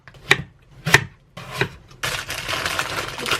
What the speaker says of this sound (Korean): 일단 사과를 얇게 썰어줍니다